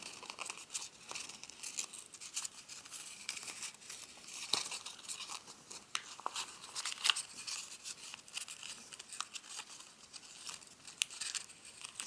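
Paper being folded into an origami bull gives a close, quiet run of crinkles, creases and soft rustles in irregular bursts, with no talking.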